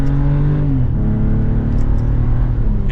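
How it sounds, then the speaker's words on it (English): A 2024 BMW 540i xDrive M Sport accelerating in sport mode with artificial engine sounds switched off, giving a loud, steady engine hum and road roar from inside the cabin as the pitch shifts through a gear change. "So this is just a regular normal acceleration."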